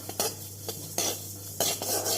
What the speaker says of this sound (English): So dry roast the sesame seeds